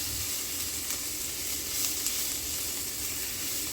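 Garlic frying in a pan gives a continuous soft, even sizzle with faint crackles, steady and moderately quiet throughout, with no voices.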